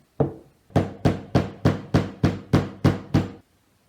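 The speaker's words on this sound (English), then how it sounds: "take your wood pole and stick it in, and then grab a hammer and just tap it in" A hammer taps a wooden pole into a glued hole, ten crisp evenly spaced knocks, close and loud, with a single knock followed by a pause before a steady run of nine.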